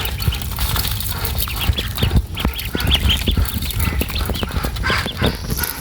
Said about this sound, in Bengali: হাঁসের বাচ্চা এখানে চোদ্দটা বাচ্চা